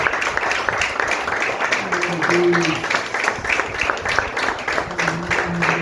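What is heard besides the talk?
congregation applauding in church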